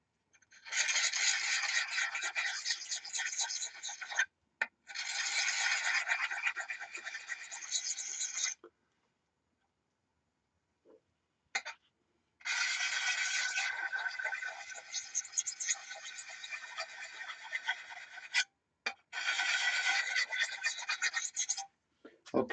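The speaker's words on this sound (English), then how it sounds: "Ain't nothing like touching up your gouge." A woodturning gouge is touched up with a sharpening tool in rhythmic bursts of bright raspy scraping, four long runs separated by short pauses and a couple of small clicks, close and fairly loud.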